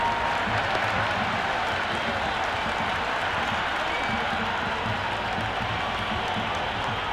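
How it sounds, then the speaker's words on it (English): A large video-game stadium crowd at a cricket match roars and applauds continuously, a dense wash of cheering noise heard from a distance, with a faint voice underneath. "Will you listen to that crowd? They are loving this."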